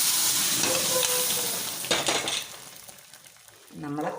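Cooked dal and spinach poured into a hot mustard-seed tempering, giving a loud close sizzle that flares into a burst of crackling and then settles, with a brief clatter of the pan toward the end.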